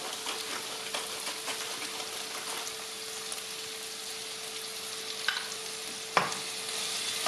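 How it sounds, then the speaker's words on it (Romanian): Onion sizzles steadily in a hot pan with salt and freshly ground pepper, a constant close frying hiss broken by a few soft spoon scrapes and taps as it is stirred. "Amestecăm și lăsăm până ce ceapa se înmoaie."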